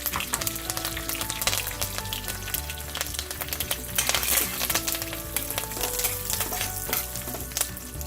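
Curry leaves and lentils sizzling and crackling in hot oil for a sambar with kale and carrot, a steady frying hiss with scattered pops and occasional stirring clinks, fairly close and without talk.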